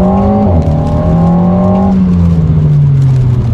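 Renault Alpine A110 exhaust in sport mode, revving loudly up close and then falling as the revs drop in a smooth sliding tone; distinct pops are not clearly picked out.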